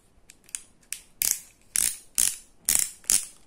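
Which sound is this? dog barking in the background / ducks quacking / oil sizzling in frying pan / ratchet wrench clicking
ratchet wrench clicking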